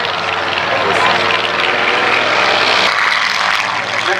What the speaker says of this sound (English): We are now getting the next aircraft off from the grass, the de Havilland DH-89A Dragon Rapide.